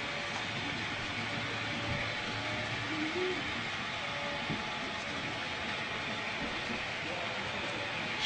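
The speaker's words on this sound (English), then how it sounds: "I hear a train coming." A model train on a large club layout runs with a faint, steady rumble under broad background hiss, with no clear peaks, heard from across a room.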